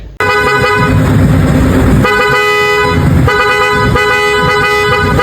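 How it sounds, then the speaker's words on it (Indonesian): A loud Racepro aftermarket car horn, two-horn setup, blares in long sustained blasts, with brief breaks between honks, close and dominating. "Ini udah dapat 2 klakson"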